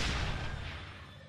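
A bomb explodes in the video game 101 Ways To Die: one deep, rumbling blast that fades away quickly over about a second. No voices.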